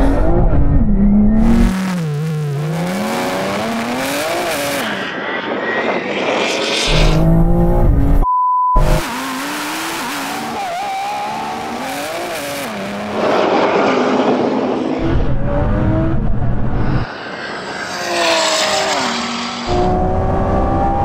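Roaring engines from a drag race between a Lamborghini Revuelto, a 1,000-hp BMW M3 Touring and a 1,000-hp Audi R8, loud and close, with rising revs and gear-change pitch sweeps, interrupted by a brief dropout partway through.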